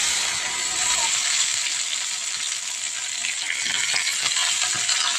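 Finely chopped tomato frying with garlic paste in a pan, a steady close sizzle with faint scattered stirring clicks.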